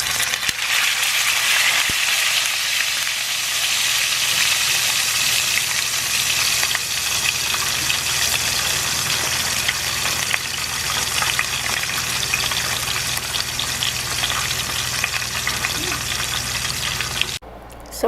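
Fresh live tilapia frying in hot cooking oil, a loud steady sizzle and crackle that runs unbroken and close up, ending abruptly with a brief clatter.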